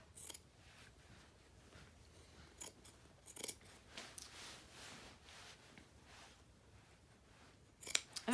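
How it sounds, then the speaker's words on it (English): Scissors cut across a dress just beneath the ruffle to remove a sleeve, giving faint, scattered snips and crunches of fabric close by, with a sharper cluster of cuts at the end; no one speaks. "We're just going to cut across underneath that ruffle"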